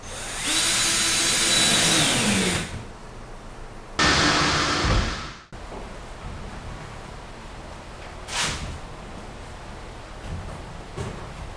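Cordless power drill driving screws into old drywall during a patch job: two loud bursts of whirring, the first about two seconds, the second shorter, each ending abruptly, then a quiet room with a brief rustle.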